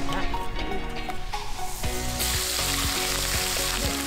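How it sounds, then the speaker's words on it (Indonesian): Fish and shrimp frying in a pan for a home-cooked Indonesian lunch, a steady dense sizzle and crackle of hot oil running throughout at close range, with no voices. "emak goreng ikannya sampai kering. Selain ikan, emak juga goreng udangnya"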